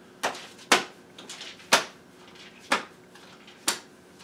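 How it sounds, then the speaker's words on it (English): Sharp papery rustles and flaps come in five separate bursts at uneven intervals, close and fairly quiet, with no voices. "Even something as simple as a piece of paper, or in this case a pad of paper."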